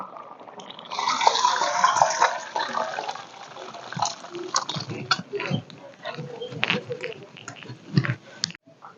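Thin fish curry with stem vegetables and potato is poured out of the cooking pot, a wet splashing pour followed by scattered liquid drips and light clinks of the vessel, close up, with no talking.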